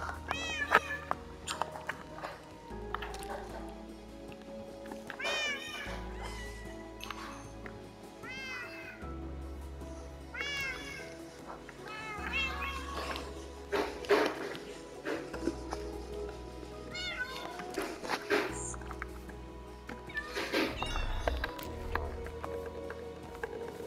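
Repeated cat meows from Minecraft, several short rising calls spread over a steady in-game music backdrop, fairly clear and close.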